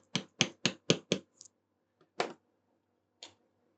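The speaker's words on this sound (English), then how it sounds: "I am using my hammer just to bang these in" Small hammer taps in a quick even run of five, then a few scattered lighter knocks, close and crisp in a quiet room, as buttons are tapped into a 1:8 scale 1966 Batmobile model.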